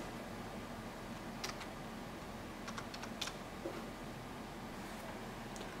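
Keys tapped on a wireless keyboard to enter a room login, quiet and close, with scattered short clicks in small bursts over a steady low hiss.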